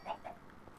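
Chickens clucking in the Minecraft modpack Sky Factory 3, two or three short, faint game clucks in quick succession.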